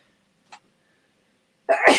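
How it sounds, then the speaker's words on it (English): A single sharp sneeze bursts out near the end after a faint small sound and quiet, close and loud. "I'm going to sneeze"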